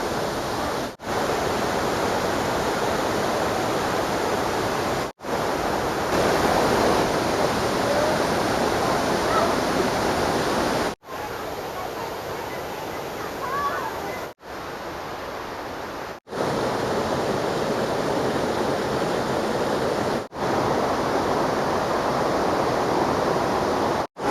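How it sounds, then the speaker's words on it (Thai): Water pours steadily at the swimming spot of Nang Rong waterfall in Nakhon Nayok, a dense, continuous roar heard close by in several segments separated by brief silent cuts. "จุดที่ให้ลงเล่นน้ำได้ของน้ำตกนางรองนะครับ"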